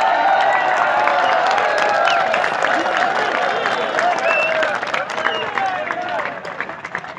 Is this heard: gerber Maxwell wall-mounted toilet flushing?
no